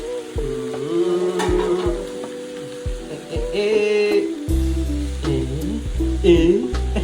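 Drumstick leaves fry in hot oil with squid and chili powder for a squid roast, giving an uneven sizzle with stirring. A voice talks over it, and there are some tonal sounds.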